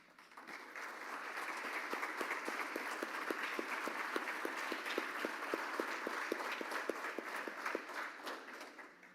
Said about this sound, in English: I'd love for you to stand up and we'll give you a round of applause